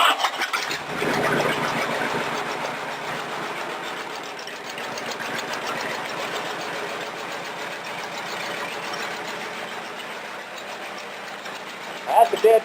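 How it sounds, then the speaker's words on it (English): A rat rod roadster engine cranks from a dead cold start and settles into a steady, rapid idle, a continuous mechanical chatter close by with no clear pauses. "That's a dead cold start, and she's starting real good. She's cranking real good too."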